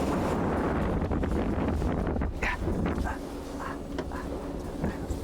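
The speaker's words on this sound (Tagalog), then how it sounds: "Kita mo yung dagat, ramdam mo yung hangin." Strong wind buffeting the microphone on a yacht deck at sea, a loud continuous roar with gusts easing slightly partway through.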